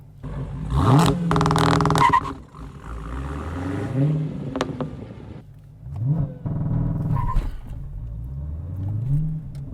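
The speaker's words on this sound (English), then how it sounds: "I'm actually gonna do a launch real quick." A 2016 Dodge Challenger Hellcat launches with a loud, close engine roar that climbs through several rising rev sweeps and gear changes, dips briefly, then pulls hard again.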